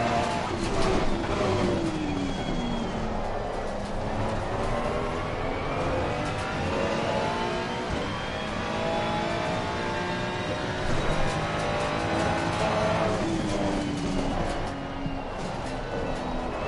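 Racing car engine in a PS5 racing game at the Red Bull Ring circuit, a loud continuous whine rising and falling through gear changes, with tire noise, playing alone without talk.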